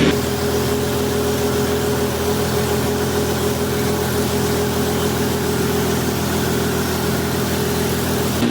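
Lamborghini Murcielago LP640 V12 engine running steadily at about 1500 RPM on a dyno while the left and right banks are balanced, a loud, continuous even drone with a constant rumble and no speech.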